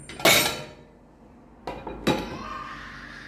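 A lid is set onto a cooking pot of squash simmering in coconut cream, giving a sharp metallic clang, then two lighter clinks as it settles, in an otherwise quiet kitchen.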